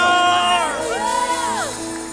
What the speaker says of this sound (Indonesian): Yang mau bersorak buat Tuhan, katakan lebih lagi.